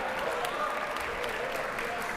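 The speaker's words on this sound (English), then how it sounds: "We'll applaud for Sydney Kovacs." Concert audience at a Sliphorn Society trombone event applauds a guest, a sustained crowd clapping with a faint hum of voices beneath, even and moderately loud from start to finish.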